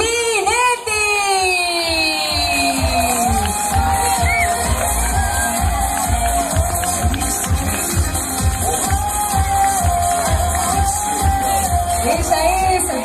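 A crowd cheers and whoops loudly for a festival queen at a provincial truckers' festival, with a steady wash of voices that stays dense from start to finish, over strong musical tones.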